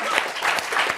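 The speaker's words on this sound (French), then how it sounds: "On applaudit la Team OM." A TV studio audience on a French football talk show gives a short burst of applause, close and lively, with speech faintly mixed in.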